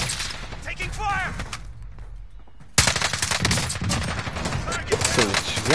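Rapid bursts of automatic gunfire mixed with voices, a quieter gap, then loud sustained shooting resumes, in Call of Duty Warzone combat at Verdansk.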